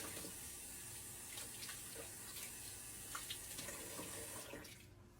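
Warm water pours steadily from a tap into a sink, a continuous splashing hiss with faint clinks, close by, tapering off at the end.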